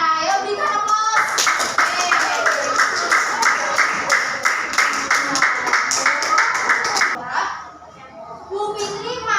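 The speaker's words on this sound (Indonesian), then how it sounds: "Ayo berikan aplaus." A class of children applauding, a steady, rhythmic round of many hands clapping together for several seconds before trailing off, with children's voices chattering before and after.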